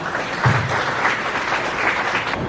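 A crowd at a school PTA induction ceremony gives a round of applause for the incoming president, with dense, sustained clapping at a fairly loud, even level and a brief low rumble near the start.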